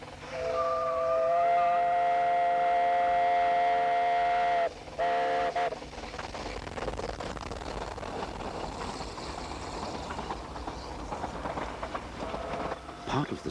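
The steam locomotive Prince, hauling a train up the line, gives a long steam whistle first, then a continuous chuffing rumble of the moving engine and cars, with a voice narrating over it.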